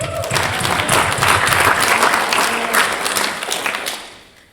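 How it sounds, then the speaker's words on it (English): A congregation claps loudly for Women's History Month at a church service, dense close applause with some crowd noise that holds steady and then fades out over the last second. "Can we get some clapping?"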